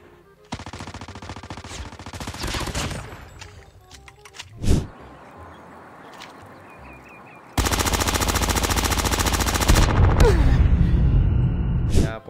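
Rapid automatic gunfire from a mobile shooter game, loud sustained bursts with a sharp single shot between them, ending in a long continuous burst of fire.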